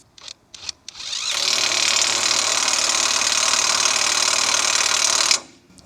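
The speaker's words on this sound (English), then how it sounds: "All right, we'll tighten it up with the Parkside now." A cordless Parkside impact gun hammers rusty, corroded bolts tight, opening with a few short bursts and then one long, loud, continuous rattling run that cuts off abruptly near the end.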